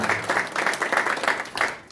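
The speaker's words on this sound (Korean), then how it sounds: "자, 우리 박수 한번 주십시오" Short burst of audience applause at a YMCA founding anniversary ceremony in Gunsan, Korea, a brief full-room clapping that swells in waves and trails off.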